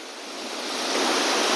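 River water rushes past near a waterfall in Nepal, a dense, loud, steady roar that swells slightly and continues without a break.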